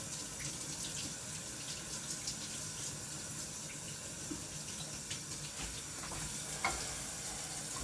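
Tap water runs steadily into a kitchen sink to rinse something out, a continuous broadband hiss with faint clinks and splashes near the end, no talking.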